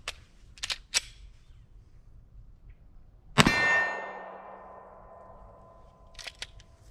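A single sharp metallic shot from a P80 PF940V2 Glock 17 build pistol rings out with a lingering decay, preceded and followed by faint clicks and handling noises in a quiet setting.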